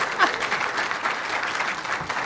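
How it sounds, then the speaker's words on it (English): Steady applause from a seated breakfast audience welcoming a minister to a keynote, a moderately loud wash of many hands clapping continuously throughout. "yes, you can clap now."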